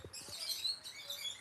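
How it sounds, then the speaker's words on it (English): Small pet birds chirping indoors, a steady stream of high, thin tweets and trills running through the whole stretch at moderate loudness, with a few low soft thumps near the start. "my birds won't shut up."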